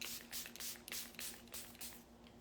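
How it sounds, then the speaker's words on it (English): Charlotte Tilbury Airbrush Flawless Setting Spray misted onto a face in about six quick hissing pumps, close and fairly soft, each burst brief and evenly spaced. "It's the Charlotte Tilbury Airbrush Flawless Setting Spray."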